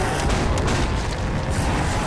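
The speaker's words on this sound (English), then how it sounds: "Oh my god, the missile is launching." A missile launches in a custom zombie map video game called Silo, giving a loud, continuous roaring rumble that fills the whole moment with dense, noisy blast energy.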